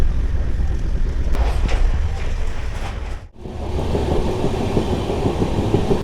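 A passenger train, the 11448 Shaktipunj Express running from Kolkata to Jabalpur, rumbles steadily on its rails, heard from inside a sleeper coach as a loud continuous roar with faint clatter and one brief dip midway.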